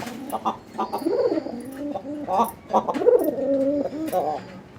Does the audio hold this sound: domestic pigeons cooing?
yes